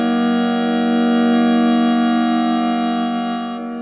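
A sustained chord of four subharmonics from a Mixtur-Trautonium played through formant filters, a steady buzzing organ-like tone held without change, fading a little at the end.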